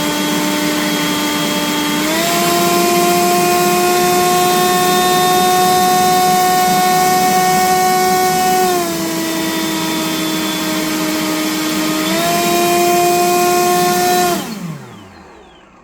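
A Sevum 40V cordless leaf blower (650 CFM, 200 MPH) roars steadily and loudly, its whine stepping up in pitch as it shifts speeds into turbo mode, then cutting off abruptly at the end.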